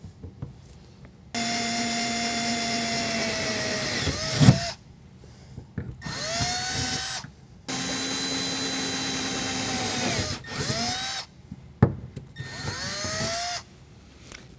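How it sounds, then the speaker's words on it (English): A power drill with a 17/64 bit bores holes through a steel truck-bed toolbox bracket on a 2022 Toyota Tundra, running in several loud sustained bursts that rise as it spins up, separated by short pauses. "So I'm going to go ahead and drill my 4 holes."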